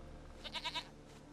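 A goat in the video game The Witcher 3 gives a short wavering bleat of about four quick pulses, fairly faint against a quiet background.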